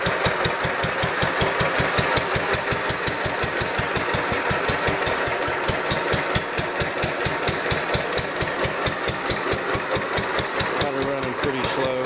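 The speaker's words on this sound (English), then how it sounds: "this is my 1936 Lister" A 1936 Lister 2 horsepower stationary engine runs slowly and steadily up close, its regular thudding beats repeating evenly throughout with a loud mechanical clatter.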